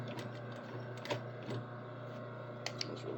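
A sewing machine runs a back stitch, a soft, rapid mechanical chatter with a few sharper clicks and taps rising above the steady whir, heard alone and fairly quiet.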